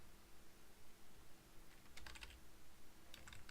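Quick bursts of computer keyboard typing while Unity test code is written, two short clusters of keystrokes over a steady low room hum, close and moderately quiet.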